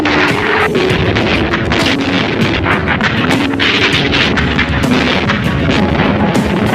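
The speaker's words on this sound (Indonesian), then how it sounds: "Berbagai bagian kota Surabaya dibombardir dan ditembak dengan meriam dari laut dan" Cannon bombardment from sea and land on a city in the 1945 Battle of Surabaya: a dense, continuous barrage of booming blasts and gunfire-like cracks, loud and unrelenting throughout, with a low droning tone underneath.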